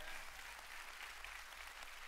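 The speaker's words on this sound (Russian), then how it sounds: "Как-то не похоже, что вы радуетесь, хлопаете просто из приличия за то, что Он сделал для вас." A church congregation claps together in a steady, dense round of applause that fills the room, with no voices standing out.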